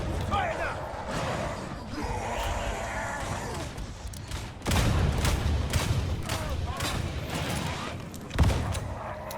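Gunfire erupts in the Warhammer 40,000: Darktide video game, a dense, booming barrage of shots that grows heavier midway, with a sharp thump near the end, all mixed under game noise.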